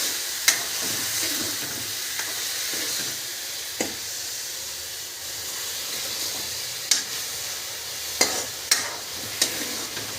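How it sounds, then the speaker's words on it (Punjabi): Tomato and turmeric masala fries in a pan with a constant soft sizzle and hiss, broken by occasional scraping stirs and clinks, with no talking. "ਚਲੋ ਹੁਣ ਥੋੜਾ ਭੁੱਜਣ ਦਿਓ ਮਸਾਲਾ"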